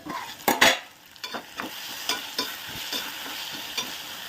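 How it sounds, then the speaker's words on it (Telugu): Tomatoes for a paneer masala fry in a pan with a steady, fairly quiet sizzle, broken by several sharp scraping stirs and clinks of a spoon against the pan, with no one talking. "చూడండి, పచ్చివాసన పోయేటట్టు వేగితే సరిపోతుంది"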